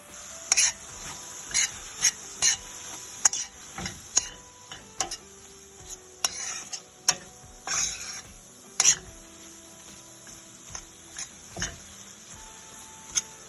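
Spices being mixed into mutton keema in a pan, a series of sharp spatula taps and scrapes at an uneven rhythm, close and moderately loud over quiet background, no speech.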